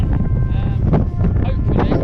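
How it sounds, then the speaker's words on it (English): Strong gusting wind roars across the microphone on a mountain ridge at Pen y Fan in the Brecon Beacons, a loud, steady buffeting that fills the whole short stretch. "So the wind's nowhere near dying down."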